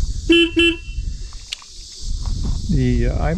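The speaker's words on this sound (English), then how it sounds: "Let's do the horn here real quick." Royal Enfield Himalayan motorcycle horn, two short close honks in quick succession, followed by a click and quieter handling sounds. A voice speaks briefly near the end.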